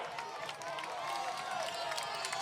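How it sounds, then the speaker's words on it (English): Scattered, half-hearted clapping from a high school football crowd at an Interboro versus William Penn Charter game, steady and moderately distant across the stands, mixed with diffuse crowd murmur throughout. "sarcastic applause from the crowd"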